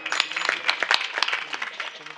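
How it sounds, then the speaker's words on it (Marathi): Audience clapping for two young musicians, under fifteen years old, at a devotional religious discourse, heard as a short burst of crowd applause with scattered sharp claps throughout. "या दोन लेकरांसाठी टाळ्या वाजवा एकदा"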